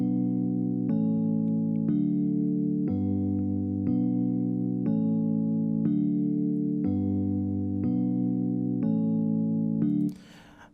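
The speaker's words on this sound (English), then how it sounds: "These are the chords. You can find any electric piano" Electric piano chords play steadily in an Afro house pattern, sustained voicings changing roughly every second in an even loop, alone and clean before cutting off at the end.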